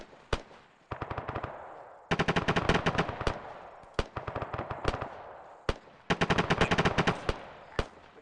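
Bursts of machine gun fire in the military shooter Arma 3 rattle out loud and close, several sustained volleys of rapid shots separated by single sharp reports and brief pauses.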